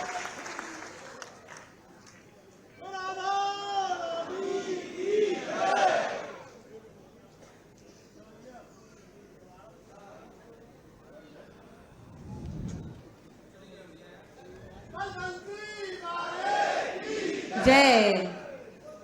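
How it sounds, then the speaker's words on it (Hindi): A large crowd at a Krishna Janmotsav celebration in Mathura-Vrindavan bursts into applause and chanted victory cries in two swelling waves, with a quieter lull between them and speech from a loudspeaker heard around the cheering. "आप सभी जोरदार तालियां बजाएं और साथ ही साथ जय घोष भी करें।"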